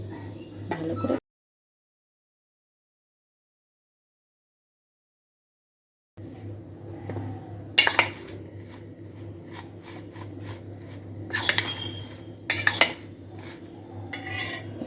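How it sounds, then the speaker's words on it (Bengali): Soya chunks are mixed by hand with soy sauce, ginger and cornflour in a bowl, giving soft scraping and rubbing with a few sharper clinks of utensil against the bowl, close and fairly quiet, after a short silent gap. "ভালো করে মেখে রেখে দেবো কিছুক্ষণের জন্য।"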